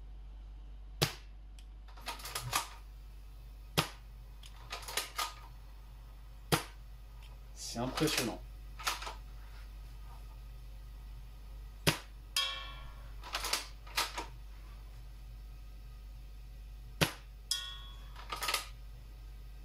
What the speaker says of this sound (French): Je tire à côté volontairement pour qu'on entende vraiment le bruit, sachant que le silencieux est vraiment tout à côté du micro.